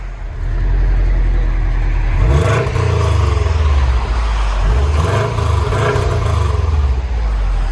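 A 2017 Subaru WRX STI with a dual exhaust and resonator delete revs hard twice from idle, a loud, close, raspy roar rising and falling over a steady burble, with no talk.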